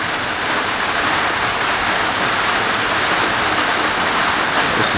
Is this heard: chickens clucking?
no